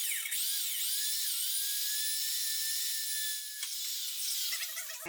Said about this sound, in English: I'm gonna go ahead and drill a hole on through it.